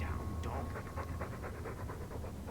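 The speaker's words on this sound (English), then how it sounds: "All that noisy dog breath, day in, day out." A dog in the video game Dragon Age 2 pants in quick, steady rhythmic breaths that keep going throughout, close and moderately loud against a constant background hum.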